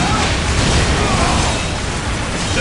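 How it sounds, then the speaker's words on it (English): A dense, loud grenade blast in Dawn of War Soulstorm, a continuous roaring wall of explosive noise with crackling bursts that holds steady without pause. "Let the grenade fly!"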